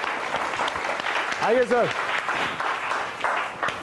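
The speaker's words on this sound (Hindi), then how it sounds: "एक बार जोरदार तालियों के साथ स्वागत कीजिए बलवीर कालरा साहब का" An audience claps steadily to welcome a guest at an event, a continuous round of applause with a voice briefly speaking over it midway.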